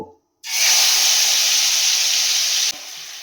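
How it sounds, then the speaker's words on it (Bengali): Marinated prawns slid into hot oil set off a loud, steady sizzle that begins abruptly, holds strong for about two seconds, then drops to a quieter hiss. "এবারে আমি এই গরম তেলের মধ্যে মাছটাকে আস্তে আস্তে দিয়ে দেব"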